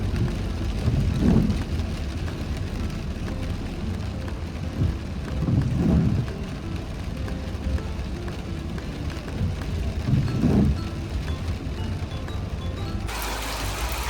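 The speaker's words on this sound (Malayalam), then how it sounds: "നല്ല മഴയാണ് ഇന്ന് പെയ്തിക്കണത്" Steady rain falling in a constant wash of hiss, with a few low rumbling swells every few seconds that sound like distant thunder or passing traffic.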